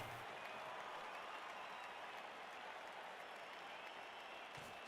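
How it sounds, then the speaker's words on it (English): A crowd of fans cheers and applauds in a Blood Bowl 3 fantasy football match, a steady, dense roar of clapping and cheering that holds throughout, with no talking. "Cheering fans, necessary violence for the Skaven."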